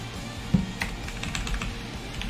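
Quick bursts of typing on a computer keyboard, with irregular clustered keystrokes close by and no talking.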